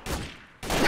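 Two bursts of pistol fire in Garry's Mod Trouble in Terrorist Town, sharp loud reports at the start and again near the end, with a quieter gap between them.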